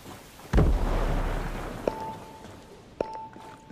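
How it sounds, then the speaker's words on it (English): A frag grenade explodes in Ghost Recon Breakpoint, a single loud deep boom with a rumbling tail, followed by two short sharp electronic beeps. "I'm throwing a frag grenade."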